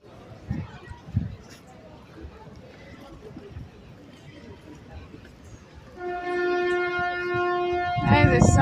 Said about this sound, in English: That is the sound of a ship.